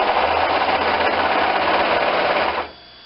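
A sewing machine stitches down the long edge of a tight mesh collar over compressed foam, running in a steady continuous whir with a low pulsing thump, then stopping abruptly near the end.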